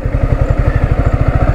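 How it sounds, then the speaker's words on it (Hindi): A Yamaha R15 V4 motorcycle engine throbbing loud and close in a fast, even low-pitched pulse while the bike rides into water, with no voices. "मेरा बाइक गया पानी में छपक।"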